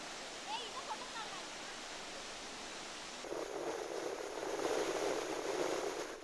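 Flood water rushes from the five opened gates of the full Chaskaman dam after days of heavy rain, a steady broadband roar that grows louder and denser partway through.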